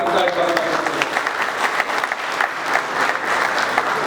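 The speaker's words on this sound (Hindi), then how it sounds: "मैं आप सबसे अनुरोध करूंगा कि जोरदार तालियों के साथ उनका स्वागत करें।" Loud, sustained applause from a crowd welcoming a cabinet minister at the UP International Trade Show, dense clapping with scattered sharp claps and a faint murmur of voices underneath.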